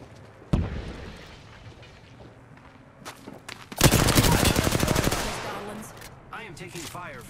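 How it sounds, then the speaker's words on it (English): Gunfire in the Apex Legends battle royale game opens with a single sharp shot, then a dense rapid burst of automatic fire hits the player for about a second and a half, followed by fainter scattered effects. "I am taking fire, friends."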